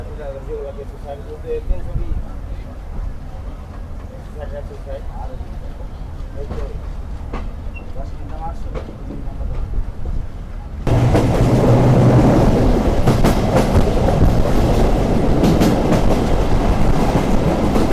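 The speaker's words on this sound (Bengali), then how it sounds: "অপরাজিতা কম্পিউটার রহনপুর রেলওয়ে স্টেশন থেকে ছেড়ে গেল সকাল নয়টা এক মিনিটে" An Aparajita commuter train pulls out of Rohanpur railway station in Chapainawabganj district, Bangladesh. Quieter station ambience with faint voices gives way abruptly to a loud, steady rumble and clatter of the moving train close by.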